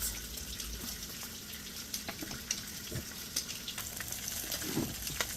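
Fish fillet frying in a pan with habanero pepper after being flipped, a steady close crackling sizzle with small popping bursts throughout, no talking.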